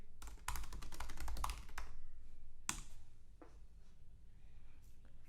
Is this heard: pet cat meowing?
no